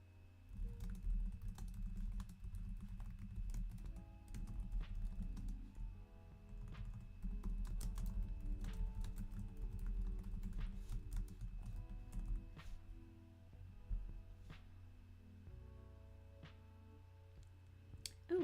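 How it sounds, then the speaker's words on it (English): Typing on a computer keyboard: a quiet, close run of irregular key clicks and taps with brief pauses, over a low steady background hum. "I can never talk when I'm typing"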